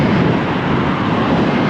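Strong headwind blasting past a cyclist at 22 mph with 33 mph gusts, a loud, dense, continuous roar of buffeting wind noise with no break.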